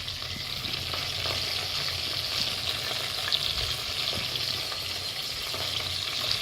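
Chopped garlic and cumin seeds sizzle steadily in hot oil in a pan, a continuous close crackling hiss with faint stirring scrapes throughout and no voices.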